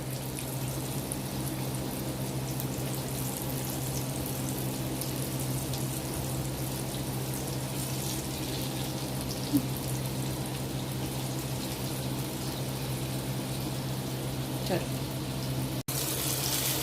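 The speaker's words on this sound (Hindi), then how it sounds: "इस तरह आपने ये सारा चिकन जो है वो फ्राई करते जाना है" Chicken pieces fry in oil with a steady, quiet sizzle that runs evenly, joined by a constant low hum and a couple of small clicks.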